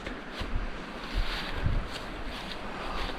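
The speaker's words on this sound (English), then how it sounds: "it sounds like there's multiple waterfalls" A steady broadband rush of falling water from waterfalls along a forest trail in Baxter State Park, heard moderately from a distance, with faint low thumps and no talk.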